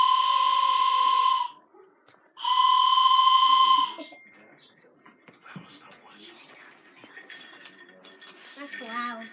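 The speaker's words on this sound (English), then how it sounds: "the Polar Express let out a loud blast from a whistle as it sped away" A train whistle gives two long, loud, steady blasts, each over a second long with a short gap between them, followed by quieter hissing and clattering noise.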